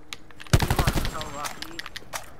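A SOG weapon fires in a video game: a loud, rapid burst of automatic gunfire, followed by fainter scattered shots, with a voice briefly audible over it.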